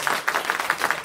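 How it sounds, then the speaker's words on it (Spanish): An audience at a literature talk gives a brief round of applause for a guest speaker, a quick burst of fairly close hand claps lasting about a second. "les pido un aplauso para nuestra invitada"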